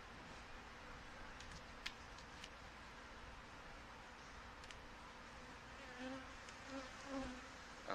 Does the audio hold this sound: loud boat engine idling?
no